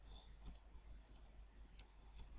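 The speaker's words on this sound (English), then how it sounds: "I'm going to type in" Quick, faint clicks from typing on a computer keyboard during a portal login, a handful of light taps spread over a couple of seconds against a quiet background.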